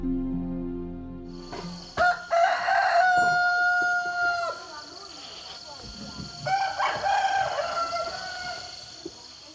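Roosters crow in a Mentawai village in the Indonesian jungle, with two long, loud, close crows over a background of insects and other birds, plus a sharp thump near the start.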